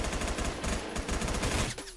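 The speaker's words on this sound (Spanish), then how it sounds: "¿Dónde está el que está disparando?" Sustained rapid automatic gunfire from an MG36 light machine gun in the Roblox shooter Phantom Forces rattles in dense bursts, fairly loud and continuous before cutting off near the end, with no speech.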